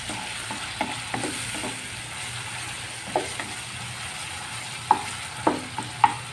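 Pointed gourd (potol) curry with chilli is stirred in a sizzling pan, a steady frying hiss under scattered scrapes and clinks of a spoon against the pan, several sharper taps near the end.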